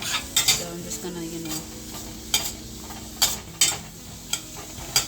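Onions frying in oil in a pan, a steady sizzle close by broken by several sharp scraping stirs and clinks of a utensil against the pan, with no one speaking.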